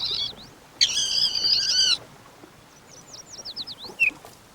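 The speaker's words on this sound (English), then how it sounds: "these baby red-winged blackbirds will need to be fed from morning till night" Baby red-winged blackbirds begging while being fed, a harsh buzzy chorus of calls burst out for about a second amid thin chirps and scattered higher peeps, faint outdoor background.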